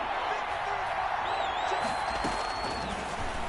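Steady roar of a large stadium crowd at Arrowhead Stadium during a Raiders football game, a constant distant wash of noise with a whistle-like tone rising above it, no single cheer standing out.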